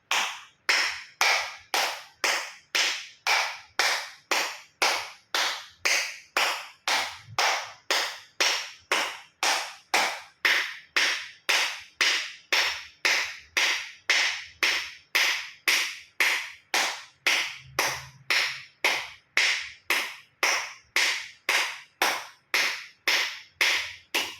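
Acupressure clapping with full palms, fingers and thumbs meeting, about forty sharp, evenly spaced claps in a steady rhythm, close and alone with no talk.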